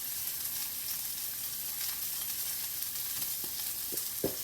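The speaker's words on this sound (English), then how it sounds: "because I want that fat to melt and flavor the rest of it as it sears on the other side" Meat sears fat side down in a hot pan, a steady close sizzle and crackle with a few brief scrapes near the end.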